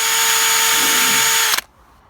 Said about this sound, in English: I've drilled those 2 holes now with a 2mm drill